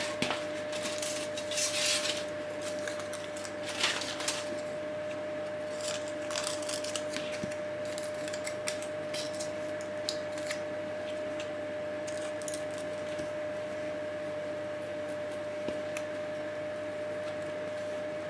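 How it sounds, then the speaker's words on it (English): Small scissors snipping through paper or foil while cutting out a shape for abstract art, giving quick crisp clicks and snips at irregular intervals over a steady faint background hum. "So try the same technique again, just simply cut out a shape."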